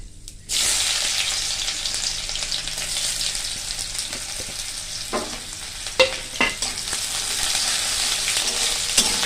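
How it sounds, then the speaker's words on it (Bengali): Chopped onions frying in a pan with a dried red chilli and Bengali five-spice start in a sudden loud hiss, then keep up a close, steady sizzle with a few scraping strokes of a spatula. "ভালো করে ভেজে নেব পেঁয়াজগুলো"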